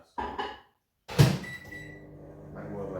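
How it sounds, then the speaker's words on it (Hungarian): A microwave oven melting butter: a door clunks shut, then a steady low hum with a faint tonal whine as the oven starts running nearby. "Ezt szépen berakjuk a mikróba, nagyjából 10 másodperc."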